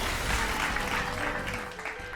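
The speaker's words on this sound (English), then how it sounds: "Give that woman a round of applause" Applause after a battle in Baldur's Gate, a dense burst of clapping that fades slightly toward the end, short and fairly loud.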